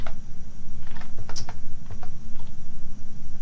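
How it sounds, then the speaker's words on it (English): Someone types one-handed on a computer keyboard, a scattering of light, close key clicks in irregular clusters over a constant low hum, with no voices. "I'm typing with one hand."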